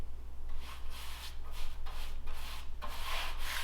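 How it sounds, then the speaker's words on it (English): Sandpaper rubbed by hand over stained wooden trim for a shipping container, a series of quick, close scratchy strokes in a steady rhythm over a low background hum. "Give it one quick sanding after it gets stained."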